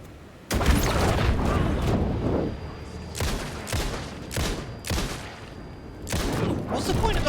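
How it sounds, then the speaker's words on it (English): A flashbang grenade going off in the video game Alan Wake 2, followed by a series of loud booming bursts and gunfire-like blasts spread across several seconds, with a player's voice talking at times. "What's the point of the flashbang if it doesn't work on all the enemies?"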